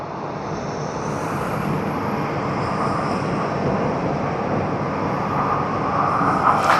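A tugged airliner at Tokyo Haneda Airport, with a steady loud roar of jet engines and airport noise that holds evenly throughout, a brighter whine rising near the end.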